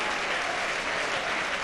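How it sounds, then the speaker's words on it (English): A football crowd of away supporters applauds a departing player at a Stockport County match, a steady dense wash of clapping at close, loud level for a short stretch. "support and applause from the County contingent"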